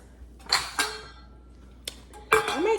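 Metal pans clattering and clinking as they are handled in a home kitchen while cooking oxtail mac and cheese, several sharp knocks with quieter gaps between, close by with no talking.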